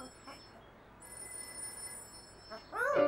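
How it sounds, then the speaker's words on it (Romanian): A cartoon telephone rings in a children's program, a faint repeating electronic ring with tonal bursts, ending in a louder burst of cartoon sound. "Telefonul lui zăpăcilă sună."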